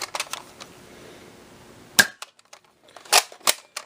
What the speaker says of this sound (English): Now we will fire a clip's worth of the included long distance darts.